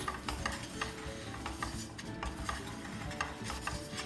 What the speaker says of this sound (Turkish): Ve bu karışımı öncelikle karıştırıyoruz.